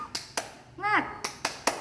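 A classroom of students claps the rhythmic 'tepuk semangat' pattern: sharp, close handclaps in quick groups, broken in the middle by a short chanted voice before the clapping resumes.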